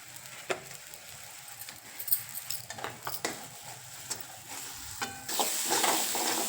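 Masala paste cooks and fries in a pan, a soft sizzle broken by scattered scrapes and stirring clicks, swelling into a louder hiss near the end.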